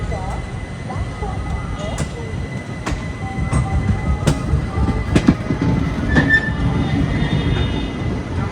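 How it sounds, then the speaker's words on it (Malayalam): A Sabarimala special train rolls into Begumpet station, wheels squealing in sharp bursts over a low rumble of carriages and rail clatter, heard from on board and fairly loud. "നമ്മുടെ സ്പെഷ്യൽ ഇപ്പോൾ ബേഗംപേട്ട് എന്നൊരു സ്റ്റേഷനിൽ വന്നിരിക്കുകയാണ്."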